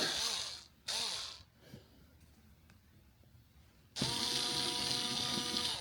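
Icon flex head ratchet being disassembled: a few short mechanical bursts, then a long steady rasping ratchet run near the end, loud and close with no talking.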